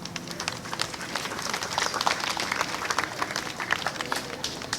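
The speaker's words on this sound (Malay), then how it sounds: "Seterusnya, berikan tepukan gemuruh untuk adik ini." An audience at an archery tournament in Malaysia gives a young archer a burst of applause. Many hands clap steadily and fairly close, with a few scattered voices in the crowd.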